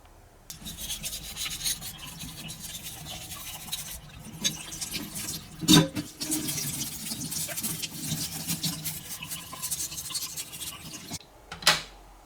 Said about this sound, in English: let's clean the milk nozzle